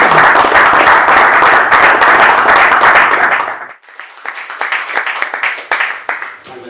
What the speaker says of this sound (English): if we could all give him a big hand, that would be fantastic